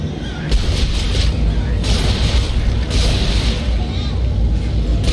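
Exploding baby creatures in the horror video game Dead Space 2 set off repeated booming blasts in quick succession over a dense, loud rumble.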